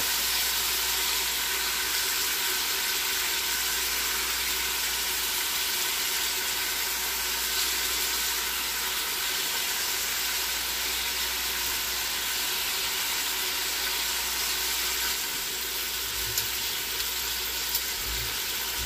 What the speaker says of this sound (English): Now's a pretty good time to add the garlic